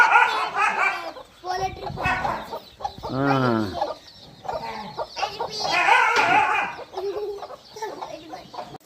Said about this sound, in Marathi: चांगली पिल्ल आहेत रे ही कोंबडीची पिल्ल